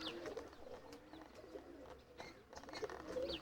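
Racing pigeons coo and flutter nearby, soft intermittent calls with wingbeats at moderate loudness and no talk over them.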